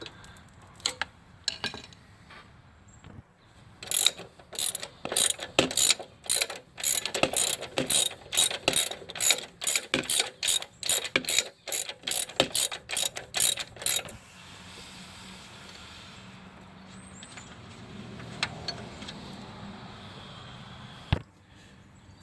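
Ratchet wrench loosening 13 mm bolts on an engine bracket of a 2013-2016 Dodge Dart, a long run of rapid close clicks in bursts, then quieter handling noises.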